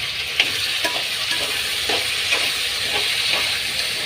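Chopped vegetables and small tomatoes fry in a pan with a steady hissing sizzle, punctuated by soft scraping strokes as they are stirred, close and continuous.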